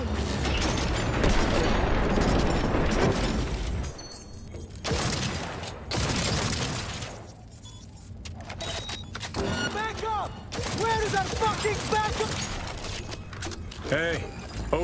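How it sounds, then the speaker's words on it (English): Gunfire and combat clatter fill a Cyberpunk 2077 firefight, a dense, loud barrage with metallic mechanical rattles, while voices shout over the din. "They're opening fire!"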